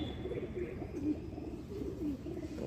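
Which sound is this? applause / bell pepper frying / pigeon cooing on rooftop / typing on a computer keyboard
pigeon cooing on rooftop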